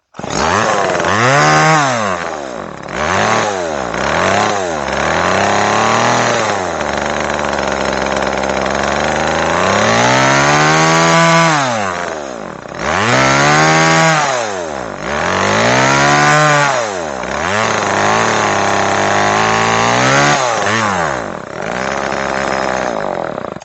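Vintage gray Homelite XL chainsaw with a newly replaced fuel line, engine running close by and rising and falling in repeated revs as the choke is worked, then dropping back to a rough idle, no speech.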